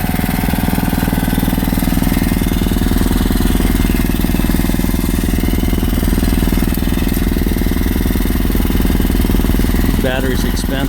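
A portable generator engine runs steadily while its carburetor is being run dry before storage, giving a loud, close, continuous drone with a brief voice near the end.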